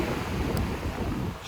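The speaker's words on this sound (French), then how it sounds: "Désolé pour le vent, désolé pour le bruit de la mer." Strong wind buffets the microphone on the coast near Nantes, blending with a steady roar of the sea in a loud, continuous wash with no talking.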